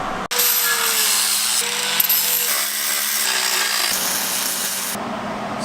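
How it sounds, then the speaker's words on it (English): A power grinder runs continuously against metal, grinding powder coating off a part for a BMW E36, producing a loud, harsh whine that shifts in pitch as pressure changes. "I'm gonna grind the paint powder coating off this thing and cut it"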